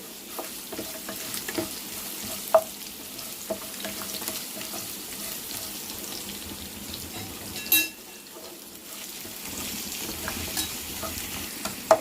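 Tempering of chana dal, mustard seeds, cumin, chilies and crushed raw garlic frying in oil for a ridge gourd curry, a soft continuous sizzle with occasional spoon scrapes and clinks, close by and without talk.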